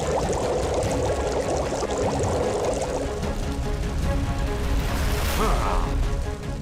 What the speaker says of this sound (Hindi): ये पानी उबलने कैसे लगा?